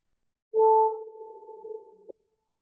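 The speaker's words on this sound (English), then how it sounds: "I start in the full B natural, because in the low register, of course, the attack quality is very easy." Low B natural on clarinet, tongued attacks in the low register: a strong attack that settles into a steady sustained tone, ending with a brief articulation click, played alone in a quiet room.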